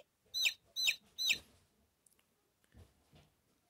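Three sharp, high chick cheeps in quick succession, followed by a few faint softer peeps and little rustling clicks.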